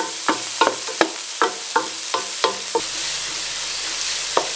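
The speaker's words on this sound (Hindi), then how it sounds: "हल्का सा फ्राई करेंगे।" Green chili paste fries in a pan for a mutton yakhni pulao, with a run of evenly spaced spoon knocks against the pan over a steady sizzle, which continues alone with one last tap; close.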